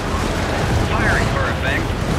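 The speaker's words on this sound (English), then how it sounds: "Throwing grenade!" A grenade explosion in the video game Helldivers, heard as a loud, continuous roaring rumble with faint voice-like sounds over it.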